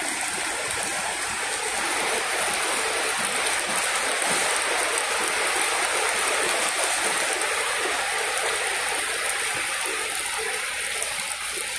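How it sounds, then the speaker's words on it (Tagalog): Steady rain falls outdoors at a deepwell pump repair site, a dense, even hiss of drops spattering on surfaces that continues without pause, close and fairly loud, with no talking. "Umuulan."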